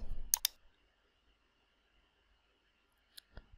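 Computer mouse clicks while navigating Windows 10 settings: a quick close pair of sharp clicks near the start, then near silence over a faint steady hum, and two or three more clicks at the end.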